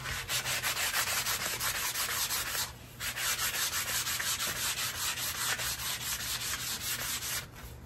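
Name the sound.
sanding rawhide-backed self-bow with 320 grit sandpaper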